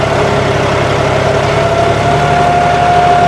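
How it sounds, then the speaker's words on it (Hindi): A John Deere 5210 tractor engine pulling a cultivator through a field with wheel slippage, a steady, loud, even diesel drone with a faint whine and no pauses. "कितना स्लिपेज ट्रैक्टर लेकर के चल रहा है"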